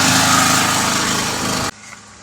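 A petrol-engine saw runs at a high, buzzing pitch as it cuts through a large panel, loud and close, then cuts off abruptly and leaves near-silence, with no talk.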